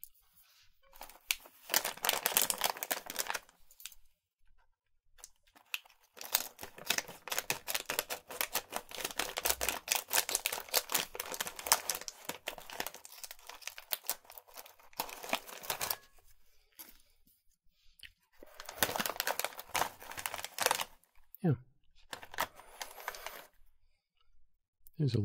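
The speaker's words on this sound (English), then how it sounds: "These are barbecue flavored waffle potato chip type things." Crisp, crinkly crunching and rustling from barbecue-flavored waffle potato chips from Japan being eaten, in close bursts with brief pauses and a longer quiet gap midway; no talk.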